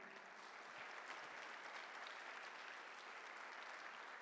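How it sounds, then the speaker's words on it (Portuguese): A church congregation at a Portuguese-language service claps in sustained applause, a dense, even wash of many hands heard at a distance and fairly quiet. "Você pode aplaudir o Senhor?"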